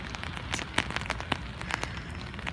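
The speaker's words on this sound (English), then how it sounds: "So, it is raining, as you can see." Rain falls on a town street in downtown Hillsboro, Texas, a steady hiss broken by sharp nearby drips and pattering hits.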